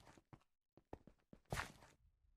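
Footsteps in the Ao Oni mansion horror game: a quick run of soft, close, evenly spaced steps ending in a louder, scuffing burst, then quiet.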